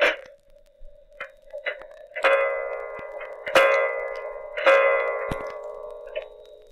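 An old wound-up clock, found at the back of a cupboard, ticks steadily at close range while bright chiming strikes ring out several times over the ticking.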